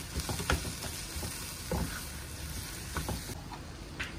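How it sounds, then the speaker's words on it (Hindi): Chinese pakora mixture frying in a pan, a steady close sizzle with scattered soft taps and scrapes of stirring throughout. "देखिए अच्छी तरह से हमने इसको फ्राई कर लेना है ताकि इसका कच्चापन ख़त्म हो जाए"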